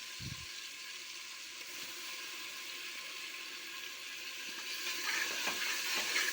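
Ginger garlic paste frying with onions and curry leaves in a pressure cooker for chicken biryani, a soft steady sizzle throughout with a dull thump at the start and faint stirring scrapes near the end.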